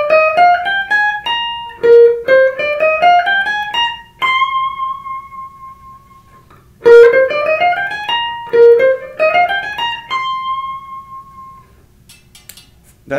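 Guitar plays figure four of a guitar solo at a slow pace. Two rising runs of plucked notes each end on a long held note that rings and fades, and a pause separates the two phrases.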